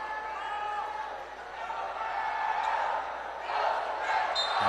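Arena crowd noise swells steadily through a San Beda Red Lions vs JRU Heavy Bombers basketball semifinal, rising louder toward the end with faint court sounds beneath a commentator's voice.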